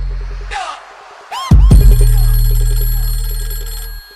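A loud electronic telephone ring sounds for a few seconds after a brief ringing chirp, cutting off abruptly.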